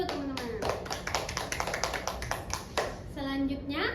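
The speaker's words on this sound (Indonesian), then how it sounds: "Tepuk tangan dulu teman-teman." A class of students clapping hands in a beginner language lesson, quick uneven claps from a small group, close by, with children's voices speaking over and around them.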